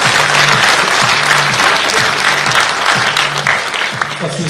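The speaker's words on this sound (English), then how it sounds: "Wow, give them a big round of applause." An audience at a corporate employer-brand awards ceremony applauding the winners, a dense, steady burst of clapping from a large crowd, loud and sustained with no break.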